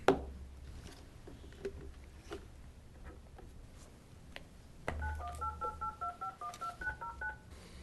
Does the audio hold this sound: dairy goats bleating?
no